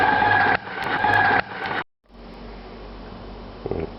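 A food processor grinds flour dough toward a smooth, even mass, its steady whirring motor broken by a brief stop before it starts again. A faint rattle follows near the end.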